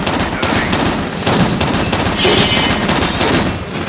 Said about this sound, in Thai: ปืนผมยิงแล้วติดระเบิดด้วยนะ ติดไฟด้วยโหดเกิน